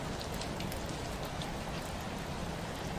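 Steady rain falls on stone, a dense, even hiss with soft scattered drops that holds at one level throughout, with no voices.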